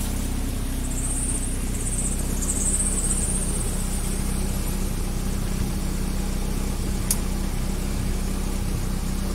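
A Daihatsu Feroza engine idles during a radiator flush, giving a steady, unbroken low mechanical drone at close range with no talking.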